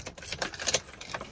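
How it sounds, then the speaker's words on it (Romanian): Toyota car keys jangle close by in a short burst of light metallic clinks just before the key goes into the car. "Băgăm cheia."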